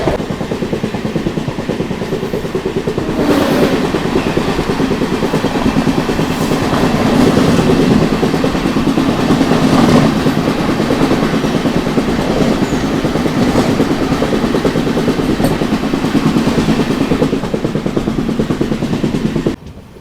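The Sathavahana SF Express runs along the tracks as it enters Mathura station, with a loud, continuous rumble and rhythmic clickety-clack of wheels heard from inside the coach, steady throughout with no talking.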